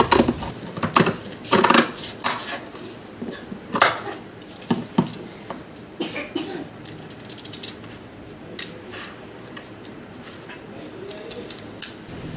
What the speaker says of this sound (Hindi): अब हम इस नेक की कटिंग कर देंगे।